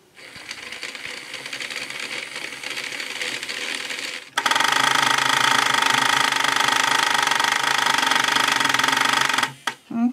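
Battery-powered Tomy Turnin' Turbo toy with gear problems, a whirring motor at first, then a louder, steady grinding gear rattle with a ratcheting buzz that cuts out near the end.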